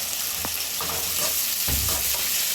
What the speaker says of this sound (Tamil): ஒரு 3 வெங்காயம் வதங்கட்டும்